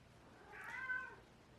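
A cat's meow at home, a single soft mid-pitched cry rising and falling over about half a second, fairly faint against a quiet room background.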